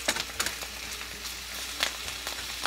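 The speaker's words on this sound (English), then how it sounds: "So I'm gonna let these guys saute a little bit." Vegetables sauté in a pan with a faint, steady sizzle and scattered soft crackles and pops, close by and with no one talking.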